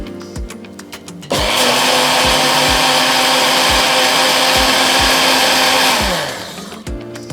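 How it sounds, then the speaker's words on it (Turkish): A blender with extra virgin olive oil and salt roars loudly at full speed for several seconds, then winds down, with rhythmic low thumps before and after the motor runs. "Blenderımızı kapatalım"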